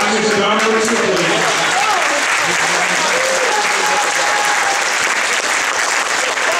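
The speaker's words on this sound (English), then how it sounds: "Big round of applause for the Lions and Dodgers of the league." An audience breaks into a sustained round of applause, dense clapping filling the room loudly and evenly, with a voice speaking over the start.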